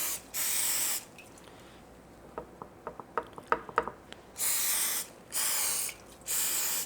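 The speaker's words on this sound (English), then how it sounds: "I'm going to spray them with the cooking spray" Cooking spray is spritzed over wonton wrappers in three bursts of steady hissing mist, with quiet clicks and taps between them and no voices.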